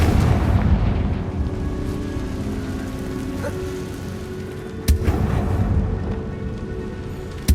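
The Confringo blasting spell explodes in the Hogwarts Legacy video game, a deep rumbling boom in a tomb that decays slowly, followed by a sharp crack and a second burst near the end.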